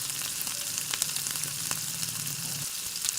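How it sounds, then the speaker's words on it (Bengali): Chopped beans fry in hot white oil in a wok, giving a bright, steady sizzle that runs close and continuous with no voices. "তেলের মধ্যে এবার দিয়ে দিলাম কেটে রাখা বিনস।"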